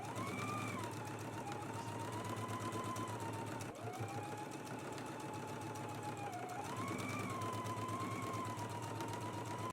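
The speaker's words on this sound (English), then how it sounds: "Let's go ahead and stitch our side seam and pocket in place now." A sewing machine hums steadily as it stitches a side seam and pocket with a 5/8 inch seam allowance, a faint, continuous motor whir with a short pause midway, no talking.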